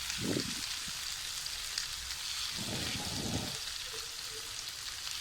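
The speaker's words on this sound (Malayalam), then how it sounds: "നമുക്കൊന്ന് തിരിച്ചിട്ട് കൊടുത്തിട്ട് ഇതേപോലെ ഫ്രൈ ചെയ്തെടുക്കാം" Pomfret fries in oil in a pan with curry leaves, a steady bright hissing sizzle that runs the whole time, with a few low thumps from the pan.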